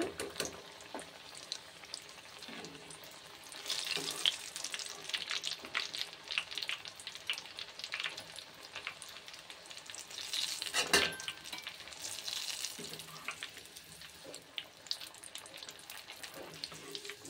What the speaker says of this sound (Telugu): చూసారా సమోసాలు ఫ్రై అవుతున్నాయి.